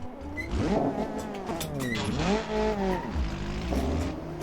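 Ford Focus sedan fitted with a race exhaust in BeamNG.drive, engine revving up and down in repeated sweeping pulls with a raspy tone, loud and continuous throughout.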